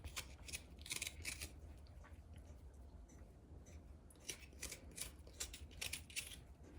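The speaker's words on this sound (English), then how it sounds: "We can cut the ginger with the skin." A knife slices through unpeeled ginger in a home kitchen, giving a run of short crisp cuts in quick irregular bursts, close and fairly quiet over a low steady background hum.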